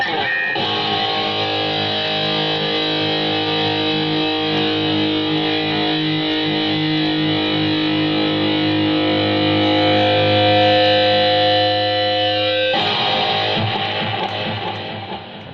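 An electric guitar plays through a BOSS GT-1 multi-effects unit with preamp solo boost and delay engaged, a loud, sustained distorted lead with long held notes and delay tails, cutting off abruptly near the end.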